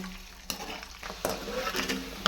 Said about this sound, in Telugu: ఇవైతే ఫ్రై చేసుకుంటాను మంచిగా కలర్ వచ్చేలాగా మంచిగా ఫ్రై చేసుకోవాలి